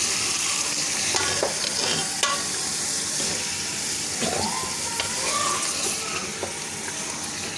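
Minced beef sizzles in a pan with ginger and garlic for a green chickpea keema, a steady close frying hiss with occasional scraping stirs and no talking.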